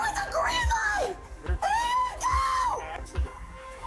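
A woman wails and screams during a police stop, with rising and falling cries in several sobbing bursts, close and loud.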